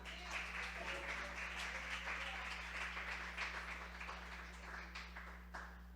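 A church congregation at a Sunday service applauds the Lord, a dense, steady wash of clapping heard somewhat distant over a constant low electrical hum.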